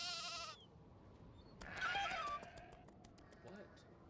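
Sheep bleating in the Nancy Drew: Haunting of Castle Malloy video game, a loud wavering bleat at the start followed by fainter animal calls and clicking game sounds, with a voice talking over parts of it.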